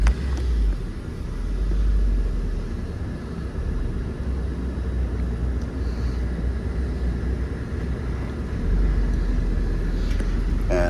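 A 2001 Saab Viggen being driven, a steady low engine and road rumble from inside the cabin, fairly constant with slight swells at the start and end.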